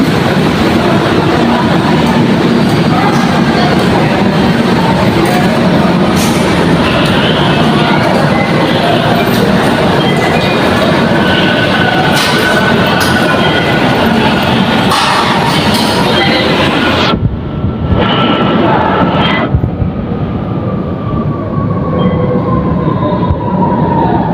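Manila MRT metro train rumbling loudly on the rails, steady and close, with a sudden drop and a faint wheel squeal near the end.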